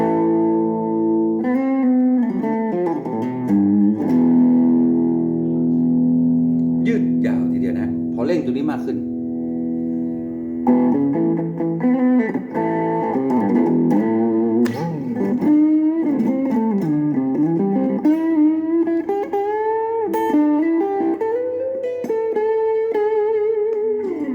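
Electric guitar played through a germanium MXR fuzz pedal, thick and sustained, with chords and bending lead notes ringing continuously.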